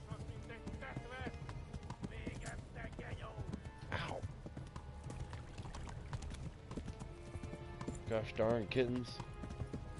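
Hooves of a galloping horse in the medieval game Kingdom Come: Deliverance, a fast rhythmic clip-clop running under shouted voices and scattered game effects at moderate loudness.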